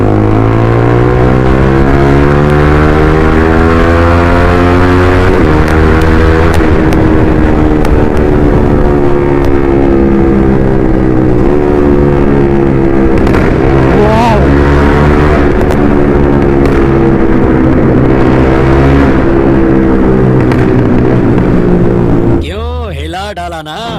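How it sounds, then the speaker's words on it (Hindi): A motorbike engine revs loudly and steadily throughout, its pitch rising and falling with the throttle, up close and continuous before cutting off sharply near the end. "देखो अब मेरी बाइक की भी आवाज आएगी"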